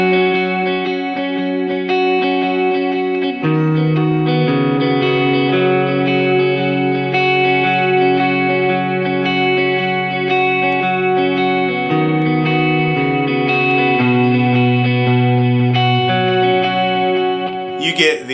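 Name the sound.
electric guitar chords, clean tone with reverb and dotted eighth delay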